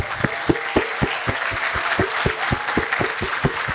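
Rhythmic applause from the audience at a law school alumni homecoming and anniversary celebration, the crowd clapping in unison with a steady beat of sharp, evenly spaced claps over a background of scattered hands.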